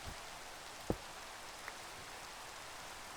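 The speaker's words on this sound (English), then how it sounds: "Literally, just make it rain!" Rain in Minecraft, summoned with a ProjectE mod item, falls as a faint, steady hiss with a couple of soft clicks and no talk.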